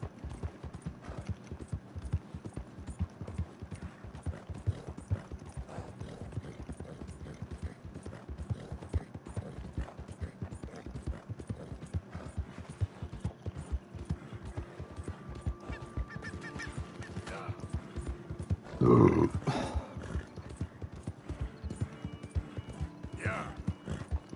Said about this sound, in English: thank you for taking me to camp, Mr. Horse.